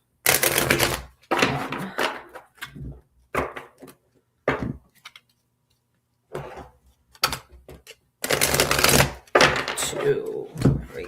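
Dice rattled and shaken in bursts for a live tarot-style dice reading, clattering in irregular loud spurts broken by short silences.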